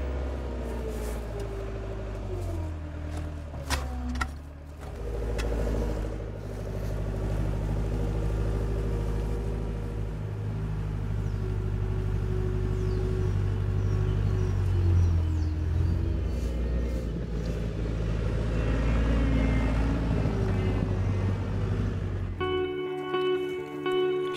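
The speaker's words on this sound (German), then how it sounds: "Ein LKW bringt sie nach München in ihre neue Heimat." A truck carrying a large, old magnolia tree to Munich rumbles with a steady, low engine drone that swells and settles as it drives, then cuts off abruptly near the end.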